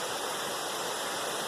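A river waterfall pours in a dense, loud, constant rush of white water, steady and close for the whole moment with no other sounds.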